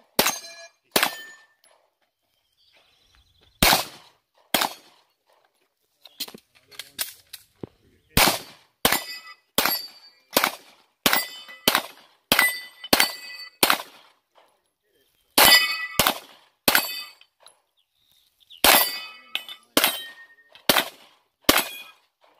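9mm pistols, a Glock 17 and an M&P Pro, firing at steel targets: sharp close gunshots in irregular bursts, many followed by a bright metallic ring from the struck steel, with brief quiet gaps between strings.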